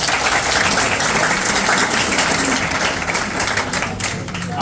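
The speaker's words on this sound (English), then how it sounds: "Clap for yourself." A crowd of high school students claps for themselves during a youth talk, a loud, close, dense burst of applause that holds steady and then eases slightly near the end.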